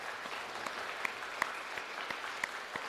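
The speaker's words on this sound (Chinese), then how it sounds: "我们先一起拍手来欢迎他们。" A church congregation claps in welcome at a Sunday service, a soft, steady patter of many hands with a few sharper, isolated claps standing out, heard from some distance.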